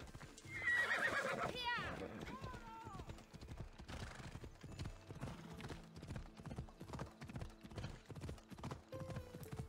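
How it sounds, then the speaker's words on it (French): A summoned horse in the video game Assassin's Creed Odyssey whinnies loudly near the start, then gallops in a steady, close clip-clop rhythm of hooves that continues to the end, with a voice talking over it. "Peut-être appeler le cheval quand même pour que ça aille plus vite."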